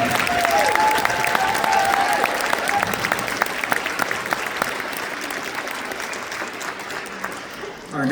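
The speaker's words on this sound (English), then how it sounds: "Let's give the concert band another round of applause." Sustained audience applause for a university concert band, dense and steady for several seconds before tapering off, with a whistle early on and faint voices mixed into the crowd noise.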